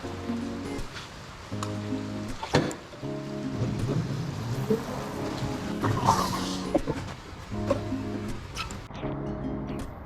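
Rain falling steadily during a brake test of an I-Motor Vapor electric motorbike, a continuous hiss with a recurring whining motor tone and a few sharp knocks, no voices.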